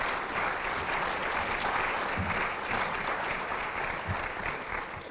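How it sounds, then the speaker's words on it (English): Sustained applause fills an award ceremony hall at a partnership celebration, a dense, even wash of many hands clapping that carries on steadily and fades slightly toward the end. "you need to clap a lot for him"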